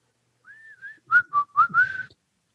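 A person whistles the Andy Griffith Show theme, a short tentative tune: a sustained opening note then several clipped, uneven notes, close and solo with no talk over it.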